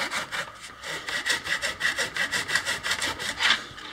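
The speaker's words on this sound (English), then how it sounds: "This saw is terrible, but I should be able to cut through like 3 millimeters." A poor-quality hand saw cuts into a mangrove log, giving loud, close, rhythmic rasping strokes at a steady pace, about four per second, with no talk.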